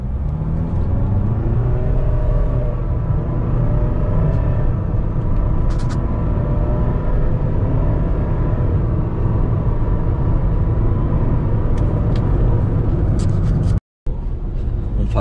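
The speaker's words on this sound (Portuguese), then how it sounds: "Vamos fazer agora o 0 a 100, lembrando que é sempre drive, com ar ligado" Jeep Renegade Sport diesel 4x4 with automatic drive and air conditioning running, accelerating hard from 0 to 100 km/h, its steady loud engine rumble and whir heard from inside the cabin, with a brief cutout near the end.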